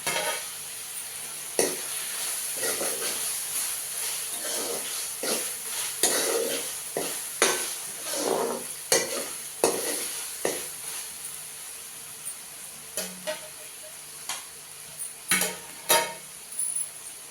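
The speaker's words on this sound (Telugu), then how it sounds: "ఇప్పుడు కట్ చేసి పెట్టుకున్న టమాటాలు వేసేసుకున్నాం" Chopped tomatoes sizzle steadily in a pan for a prawn curry, with a spoon scraping and stirring in irregular knocks against the metal throughout, close and moderately loud with no talking.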